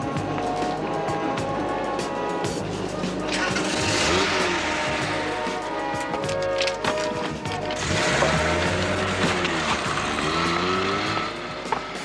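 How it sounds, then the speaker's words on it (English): A Datsun car's engine starts and revs as the car pulls away, the pitch climbing and falling through the gears. The sound is fairly close and clear, with no talking. "Our man's just climbed into a Datsun"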